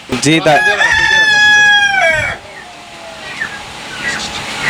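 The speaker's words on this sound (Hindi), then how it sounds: "ये जावा नस्ल का मुर्गा है मेरे पास, ये पूरा पेयर रखा हुआ है" A Java breed rooster crows loudly and close by in one long drawn-out call, then fades into quieter background noise.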